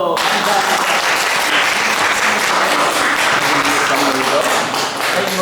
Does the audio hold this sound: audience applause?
yes